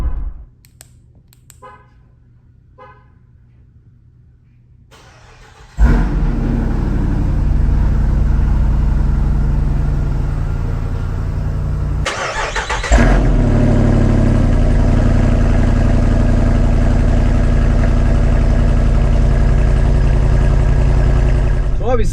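A Jeep Wrangler V8 on its stock factory exhaust with the valves open cold-starts after some quiet clicks, bursting into a loud, close, deep roar that flares up again partway through and then settles into a heavy, rumbling idle that runs for a long stretch.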